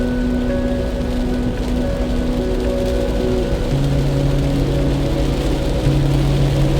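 Heavy rain pours down in a continuous loud roar of drops, with steady tonal hums from a nearby engine or vehicle running underneath.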